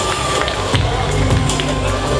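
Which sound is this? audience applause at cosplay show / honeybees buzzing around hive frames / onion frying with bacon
audience applause at cosplay show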